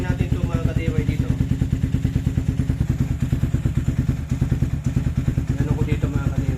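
A KRY 200 motorcycle engine runs steadily on its own, a close, loud idle with rapid regular thumping pulses that keep going without a break, and no talking over it.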